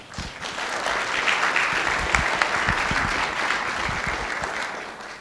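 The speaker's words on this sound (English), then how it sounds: "please give yourselves a round of applause for being here this evening" A room full of people applauds, steady clapping swelling and then tapering off over several seconds.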